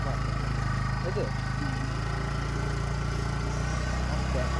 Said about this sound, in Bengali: এখন চালাচ্ছি নিয়ে স্কুটি